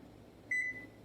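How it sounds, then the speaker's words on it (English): Kitchen timer being set while a braised chuck roast with drop dumplings is cooking, giving a single clear electronic beep of about a quarter second over a quiet kitchen hum. "We're going to set our timer"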